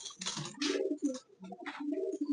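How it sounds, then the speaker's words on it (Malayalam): Old pigeons give low cooing calls, a few close rolling coos in a row with brief rustly bursts between them, loud against a quiet background. "അത് നമ്മള് പഴയ പ്രാവുകൾ."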